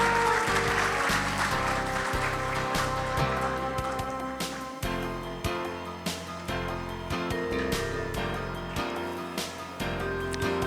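Applause at an award ceremony during a science and technology federation's visit to the National Assembly, a sustained clapping under music that stays loud throughout.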